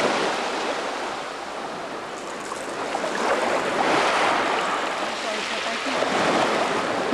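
Sea waves washing ashore at Kabardinka near Novorossiysk, a continuous rushing surge that swells and recedes, fairly close and loud, with occasional voices faintly in the background.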